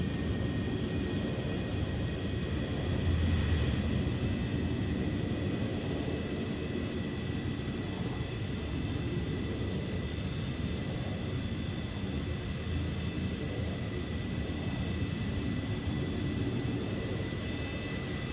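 Steady jet aircraft roar from the naval warfare game Sea Power, a continuous broad engine drone holding at an even level throughout with no talking.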